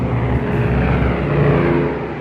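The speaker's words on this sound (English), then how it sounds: "I heard the roar of a plane." A propeller plane roars overhead during the Fat Man atomic bombing, a loud, close, sustained engine drone with a low throbbing pulse throughout.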